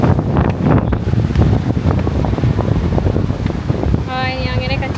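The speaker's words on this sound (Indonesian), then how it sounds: "Oh, ini anginnya kenceng banget." Strong wind buffets a camera microphone outdoors on a stormy coast in Madura, Indonesia, a loud continuous roaring rumble with gusty bursts throughout.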